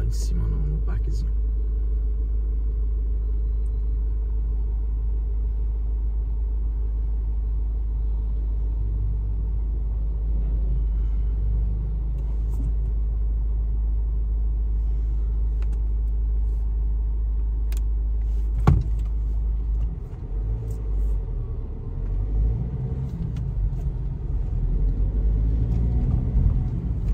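Steady car traffic on a road in Kayl, southern Luxembourg, at four in the afternoon: a continuous low rumble of passing vehicles throughout, with a brief sharp knock midway and a swell of nearby engine noise near the end.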